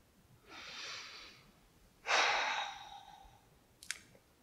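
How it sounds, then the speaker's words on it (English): A deep breath taken during a worship service, heard as a long drawn inhale followed by a louder, extended exhale, then a short sharp breath sound, close and alone. "And now I invite you to take a deep breath."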